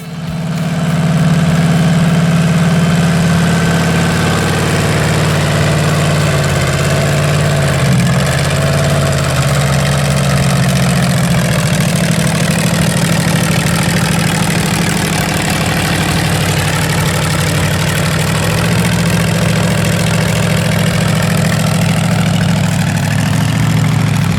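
A custom Mopar hot rod engine idles loudly and steadily with a deep, lumpy low rumble that holds for the full stretch, close by and without talk.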